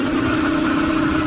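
Zeda 100 DIO motorized bicycle engine, a small four-stroke kit engine in need of tuning, running steadily at close range with a constant buzzing drone and no talk.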